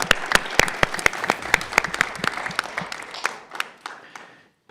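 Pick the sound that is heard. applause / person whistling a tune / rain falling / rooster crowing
applause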